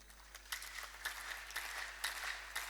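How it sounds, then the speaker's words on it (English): Applause from an audience honoring Dr. Brhanu at an association gathering, a soft, steady patter of many hands clapping at a distance, continuing evenly throughout. "Give a great applaud for this gentleman, Dr. Brhanu"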